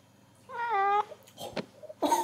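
A house cat gives one drawn-out, clear meow up close, followed by a few soft rustles and a second short, rougher vocal burst at the end.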